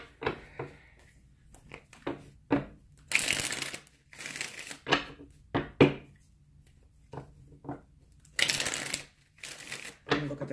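Tarot cards are shuffled and riffled in repeated bursts, sharp papery flutters and slaps spaced a second or two apart, close and fairly loud against a quiet room.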